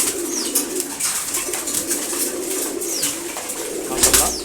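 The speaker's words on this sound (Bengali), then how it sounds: "মাশাআল্লাহ সুন্দর কবুতর।" Domestic pigeons, including racing birds, coo in a loft at morning feeding time; soft repeated low coos overlap near the listener, with light rustling and a brief flutter near the end.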